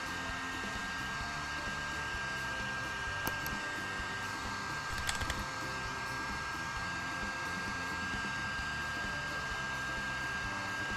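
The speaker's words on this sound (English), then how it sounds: "use a heat gun to blow on the connector" A heat gun blows steadily on a wire connector, shrinking tubing during an F-150 ABS wheel speed sensor wire repair, producing a constant close-up airy roar with a high whine and a few brief clicks partway through.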